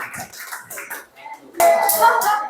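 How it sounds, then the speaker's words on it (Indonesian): Pupils in a classroom applaud a student group with a short burst of clapping, preceded by a few scattered taps and brief children's voices. "Tepuk tangan untuk kelompok 1"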